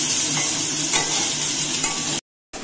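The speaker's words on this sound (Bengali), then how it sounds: "আলুটা আমাদের ভাজা হয়ে এসেছে।" Potatoes frying in oil in a pan give a loud, close, continuous sizzle with faint stirring scrapes, cutting out briefly near the end before resuming.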